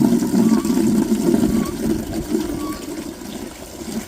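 Water gushes steadily into a roughly gallon-sized bucket, a loud, close, continuous fill that eases slightly toward the end.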